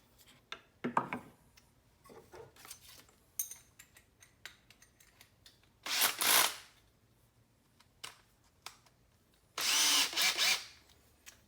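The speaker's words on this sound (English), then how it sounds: "we're just going to drill the hole" A few short, loud bursts of whirring power-drill noise as the bit bores a hole in a 3/4-inch board, spaced apart with clicks and handling sounds between them.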